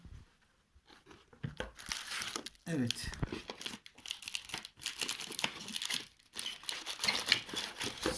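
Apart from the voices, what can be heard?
bubble wrap protective bag crinkling during phone unboxing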